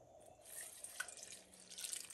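Warm water poured into tortilla dough being mixed by hand, a faint, steady watery trickle with a few small drips and splashes and no talking.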